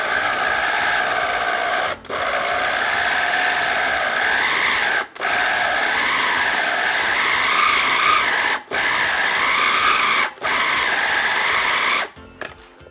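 A small, decades-old food processor runs steadily at close range, a continuous buzzing motor whine broken by several brief pauses between pulses before it stops near the end.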